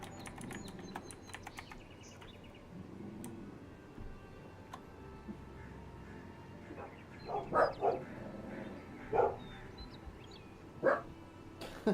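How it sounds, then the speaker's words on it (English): Dogs in a game world bark in an agitated fit at someone outside, several sharp, fairly loud bursts coming in clusters over a low background hum, with quieter ticking sounds earlier. "Dogs are throwing a fit."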